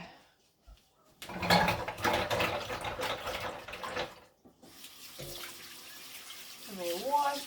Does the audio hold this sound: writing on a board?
no